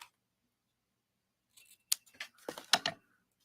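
Scissors snip through ribbon tails on a handmade bow in a short run of crisp, close cuts after a quiet start, with no one speaking.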